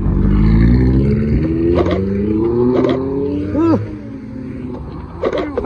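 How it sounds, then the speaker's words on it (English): A Lamborghini Aventador supercar leaves a car show with a loud, rising engine note that climbs through gears, punctuated by short revs, with a voice briefly audible over the roar. "Aventador!"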